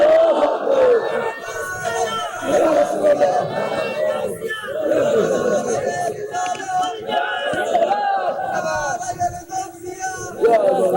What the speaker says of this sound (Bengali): একটা স্লোগান দেন।